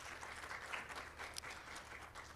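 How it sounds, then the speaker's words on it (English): A conference audience applauds as a CEO is invited to the stage at a national consultation on adolescent pregnancy, a dense patter of clapping heard from some distance, steady and fairly quiet throughout. "please give her a round of applause"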